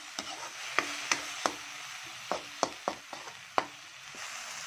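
Alamang shrimp paste sautéing in cooking oil, heard as a soft low sizzle punctuated by sharp scraping clicks of a spatula against the pan at irregular intervals, close and fairly quiet.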